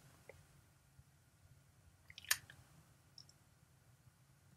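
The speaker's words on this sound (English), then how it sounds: "Click the tick." A computer mouse clicks a checkbox, giving a couple of faint, sharp clicks against a quiet, low background hum.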